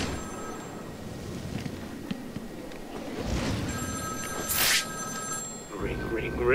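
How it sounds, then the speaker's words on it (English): A telephone rings in Batman: Arkham City, its shrill repeated trill surfacing amid game ambience and footsteps, with a person talking over parts of it. "There's definitely a phone ringing."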